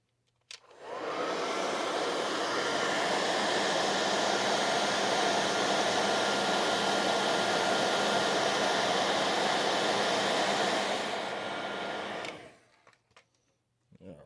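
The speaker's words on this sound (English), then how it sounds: "let me get my hot air gun" A hot air gun blows a steady, loud whoosh across heat shrink tubing on a wire during repair of a 1970s Sony STR-7065 stereo receiver. It starts abruptly, holds for about eleven seconds, then cuts off, and a few faint handling clicks follow.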